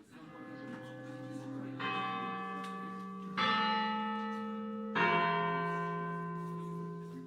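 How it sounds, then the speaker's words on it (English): A school bell sounds three times, each deep, resonant ring striking in sharply and then ringing out with a long, slowly fading tone, all heard alone at moderate volume. "When the last bell rings"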